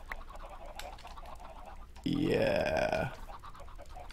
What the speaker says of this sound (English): it starts to get really noisy, and that's because we have a ton of chickens in there